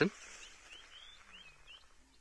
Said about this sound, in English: You can hear a bird.